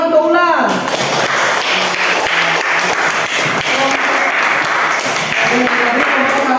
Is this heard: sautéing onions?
no